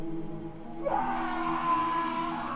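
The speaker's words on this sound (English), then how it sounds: "that is the sound of a dying police officer" A low, drawn-out moaning groan of a dying police officer in the video game Pitch Black (2nd Demo) rises and wavers over a steady background hum.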